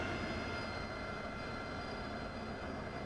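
A VMA-231 AV-8B Harrier jet engine in the DCS flight simulator spools down to idle, a steady broadband roar with a faint high whine holding throughout, alone with no talk.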